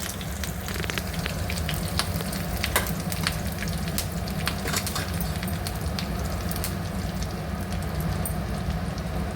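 Cumin seeds and curry leaves frying in hot oil, producing a steady, dense sizzle with sharp crackles and pops throughout, heard close and alone.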